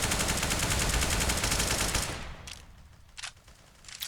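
A grenade goes off in Counter-Strike on the cobblestone map: a dense, loud burst of crackling explosion and gunfire noise for about two seconds, then a sudden drop to near quiet broken by a few sharp, faint pops.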